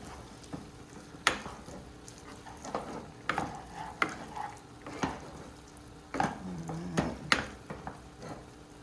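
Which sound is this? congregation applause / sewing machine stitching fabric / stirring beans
stirring beans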